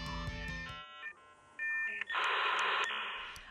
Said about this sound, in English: Anyone who used the internet in the early 2000s knows the sound of dial-up.